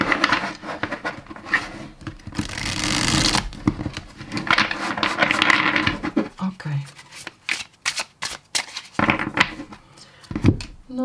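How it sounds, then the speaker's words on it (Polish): A tarot card deck is shuffled by hand in bursts of riffling and sliding cards, close and crisp, with brief taps and pauses between passes. "Wcześniej już tasowałam tą talię"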